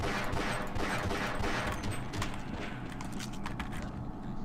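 Rapid gunfire bursts from a Half-Life playthrough, weapon shots fired at a headcrab, crackling loudly and repeatedly over a dense game soundscape with speech faintly present.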